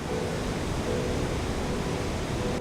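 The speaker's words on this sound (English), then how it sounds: "Grouse Creek, surging down the hillside near Arch Rock" Grouse Creek waterfall surging down a hillside near Arch Rock in Yosemite, a dense, continuous roar of rushing water, loud and close, with no voices.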